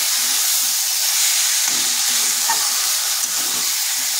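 Spinach, eggplant and potato are stirred in a frying pan over low heat, giving a steady close sizzle and hiss with soft scraping stir strokes throughout.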